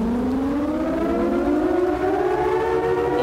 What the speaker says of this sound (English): The sirens, man.